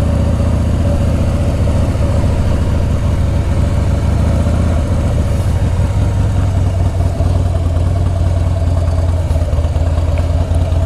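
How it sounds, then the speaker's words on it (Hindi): A heavy 1700 cc motorcycle engine idles with a loud exhaust, giving a steady, dense low rumble that stays constant and close throughout, with no talking over it. "वो एग्जॉस्ट है, हैवी इंजन है इसका, 1700 cc का"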